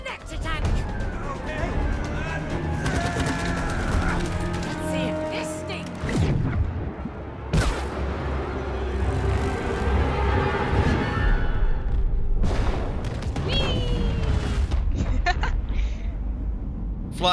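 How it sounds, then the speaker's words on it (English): A loud explosion in the co-op video game It Takes Two bursts out amid a dense, busy game soundtrack, with players talking over the action. "Flying away from an explosion"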